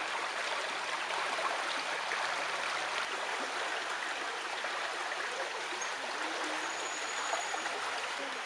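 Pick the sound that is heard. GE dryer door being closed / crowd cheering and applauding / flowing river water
flowing river water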